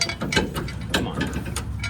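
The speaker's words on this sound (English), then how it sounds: "use the ratchet to get it snug, and then you go back and torque it after" A hand ratchet snugs the bolts of a gooseneck hitch, its pawl clicking in quick repeated bursts at close range, several short runs of clicks with brief pauses between them and no speech.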